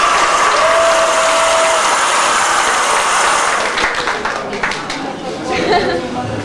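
Guests at Robert and Kasia's wedding applaud the bride and groom, a dense burst of clapping with crowd chatter that stays loud, then thins and grows more scattered toward the end, with a brief voice at the start.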